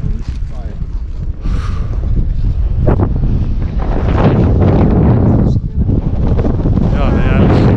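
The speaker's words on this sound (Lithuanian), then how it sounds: "Jo, vėjelis." Strong gusting wind buffets the microphone on a high mountain trail in the Tatra mountains near Rysy, a loud, continuous rushing roar that swells and dips, with people talking under it.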